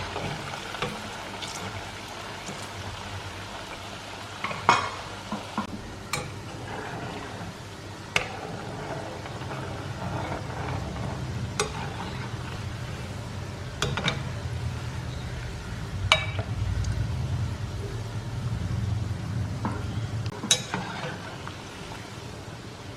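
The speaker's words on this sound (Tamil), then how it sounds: "மீடியம் ஹீட்டில் வச்சு ஒரு 5 நிமிஷம் போல் லோ ஃப்ளேமில் நல்ல கோல்டனாக ஆகிற வரைக்கும் ஃப்ரை" Rava badusha sweets deep-fry in oil over a low flame, giving a soft, steady bubbling hiss with scattered light pops and crackles, fairly faint and close, with no speech.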